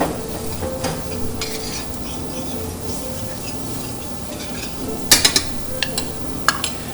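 Herbs and spices are stirred into a sizzling pot during a Cuban-style cooking class, with a steady frying hiss under repeated scraping strokes and a few sharp utensil clinks against the pot near the end.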